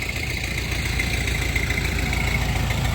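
Steady low diesel engine rumble from a Jinma 404 mini tractor with cab, a constant idling drone, no voices.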